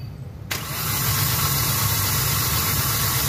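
A Hyundai Accent gasoline engine with a misfire and no spark on cylinder one cranks briefly, catches and settles into a loud, rough, steady idle, close by.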